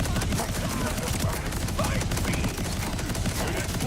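Gunfire from weapons in Borderlands 4, a dense, continuous burst of rapid shots filling the whole stretch at steady loudness, with no voices over it.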